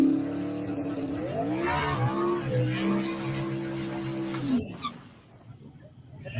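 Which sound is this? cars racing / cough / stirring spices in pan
cars racing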